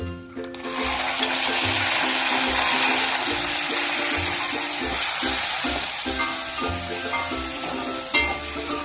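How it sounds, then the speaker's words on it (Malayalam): Garlic tipped into hot oil with curry leaves sizzles and crackles steadily, a loud, continuous frying hiss with faint stirring scrapes close by, no voices over it. "ഇനി ഇതിലേക്ക് ആവശ്യമായ വെളുത്തുള്ളി ഇട്ട് കൊടുക്കാം"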